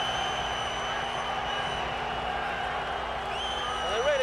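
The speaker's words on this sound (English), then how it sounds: "getting a tremendous welcome from the Swiss crowd" A Swiss boxing crowd gives Muhammad Ali a noisy welcome on his entrance for his fight with Jürgen Blin. The crowd roar is constant and steady, with a commentator talking over it and a whistle rising near the end.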